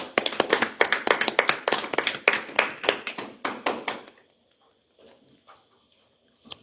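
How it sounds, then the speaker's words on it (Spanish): Audience applause at a church gathering, a sustained burst of many hands clapping close and loud for about four seconds, then fading into near silence with a few faint scattered claps. "Aplauso."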